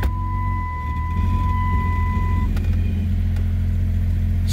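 A Jeep 4.0 inline-six with a misfire problem and its upstream O2 sensor unplugged idles steadily just after start-up, a low, even engine drone with a brief high whine fading early on.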